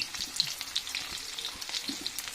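Onion and cumin seeds frying in hot oil, a soft crackling sizzle with scattered pops and occasional stirring scrapes, close and fairly quiet, no voices.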